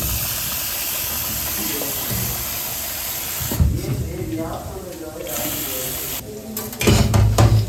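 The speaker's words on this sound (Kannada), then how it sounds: "ನೀರು ಭಾಳ ತಂಪು, ಸ್ವಲ್ಪ ಬಿಸಿನೀರು ಬಿಡೋಣ" Hot water runs from a tap in a student dorm in Germany, a steady broadband rush that starts partway through, with people talking at moderate volume over and around it.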